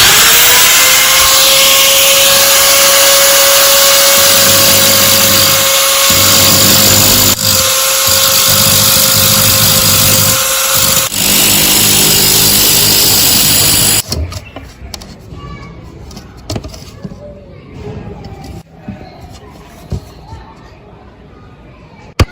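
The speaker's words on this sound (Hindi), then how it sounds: "और साथ में हम चलाएंगे ये ग्राइंडर" An electric grinder spins with a loud, steady high-pitched whine for about fourteen seconds, then winds down and stops, leaving scattered clicks and handling noises.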